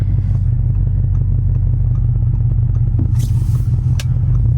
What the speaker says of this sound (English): So this car is fully straight piped.